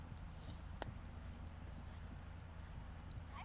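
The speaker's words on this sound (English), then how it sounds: "Just letting him trot and relax" A horse trotting under a rider, hooves clip-clopping in a steady faint rhythm over a low, noisy outdoor background, with one sharper click near the start.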